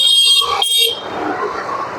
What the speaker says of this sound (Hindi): तो अभी यहाँ पे ट्रैफिक हो रहा है बहुत ज़्यादा, चालू रहने दो।